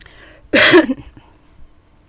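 A single sharp, throaty cough close to the microphone, followed by quiet breathing.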